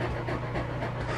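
A female dog pants steadily and close by indoors on a hot day with the air conditioning running, a continuous breathy rasp with no talking.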